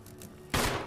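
A sudden loud burst of gunfire cuts in after a quieter lead-in as shots are fired at bees in the video game Resident Evil HD Remaster.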